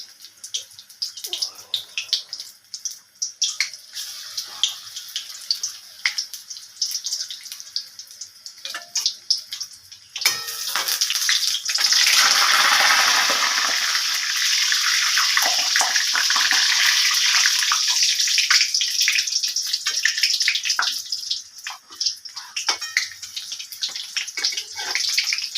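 Cauliflower pakoda frying in oil over low heat: after quiet, light crackles, a dense steady sizzle swells up midway and holds, with sharp pops scattered through it.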